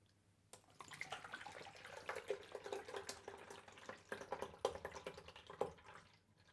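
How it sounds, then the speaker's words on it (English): Distilled water from a bottle poured into the basin of a Spin-Clean record washer, an irregular close splashing and gurgling that starts abruptly and churns unevenly with small drips, no voices. "take a bottle of distilled water here, and we're going to fill the unit up to that line"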